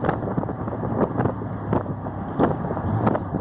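A 1970 Triumph TR6 driving on the road after braking, a low steady engine and road rumble mixed with gusty wind buffeting the microphone, with several sharp thumps along the way.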